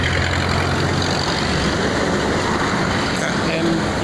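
Steady roar of heavy trucks and buses driving along the Jakarta–Cikampek toll road on a morning, a dense low engine rumble that stays continuous and fairly loud throughout.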